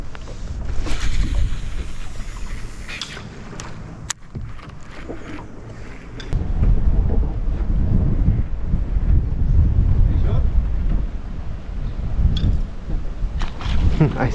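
Wind gusts buffet the microphone on a lake during kayak fishing, a loud, rough roar that swells and eases through the clip.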